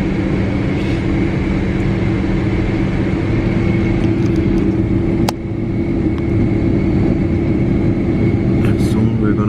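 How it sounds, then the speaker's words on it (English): Steady loud rumble of an airliner's engines while taxiing on the runway, a constant drone throughout with a brief click midway and cabin chatter underneath. "We're pretty much taxiing now on the runway"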